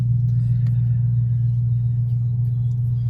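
A Lexus engine with an aftermarket gauge cluster idles steadily, heard from inside the car as a loud, continuous low hum and rumble with no change in pitch.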